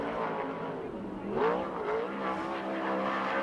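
A USAC/CRA sprint car laps Perris racetrack in California, its engine a loud, steady roar that swells as it passes and then holds at high revs, with no talk over it.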